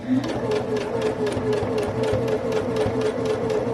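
A sewing machine runs steadily, stitching a seam through a felt bag with a continuous mechanical whir and rapid needle rhythm, close and fairly loud, with no talking.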